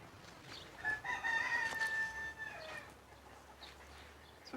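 A rooster crows once near the mic, a long drawn-out cock-a-doodle-doo with clear harmonics, alongside chickens on a compost pile fed high-protein scraps, followed by quiet background.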